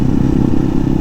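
Steady low rumble and road roar from a motorcycle ridden on a mountain road near Porac, Pampanga, its soft rear tire whirring loudly and continuously throughout, with no voices over it.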